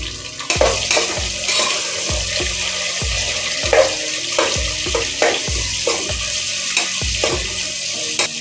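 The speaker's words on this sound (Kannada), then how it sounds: "ಈರುಳ್ಳಿನ ಆದಷ್ಟು ಚೆನ್ನಾಗಿ ಬೇಯಿಸ್ಕೊಳ್ಳೋಣ ಗೋಲ್ಡ್ ಕಲರ್ ಬರೋವರೆಗೂ ಚೆನ್ನಾಗಿ ಬೇಯಿಸ್ಕೊಳ್ಳೋಣ" Onions frying in a pan for donne biryani, a loud continuous sizzle with regular scraping stir strokes about every half second, close and alone without talk.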